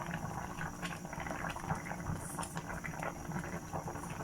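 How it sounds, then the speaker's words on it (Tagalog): A pot of stingray pieces bubbling at a steady boil, a dense churning gurgle of liquid with occasional louder pops, close and continuous. "Kumukulo na yung pinapakuluan natin na pagi."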